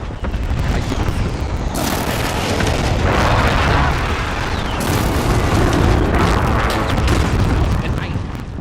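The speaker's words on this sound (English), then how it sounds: "Enemy precision airstrike inbound." Enemy precision airstrike in the Modern Warfare video game, heard as loud, continuous rumbling explosions with heavy booming bursts that roll on throughout.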